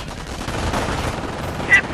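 Gunfire in a Company of Heroes battle crackles steadily through two seconds of busy game noise, with a brief sharper burst near the end and a faint voice under the mix.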